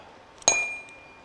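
A single metal tuning fork is struck with a hammer, giving a sharp clink and then a clear ringing tone that fades quickly, heard alone in a quiet room.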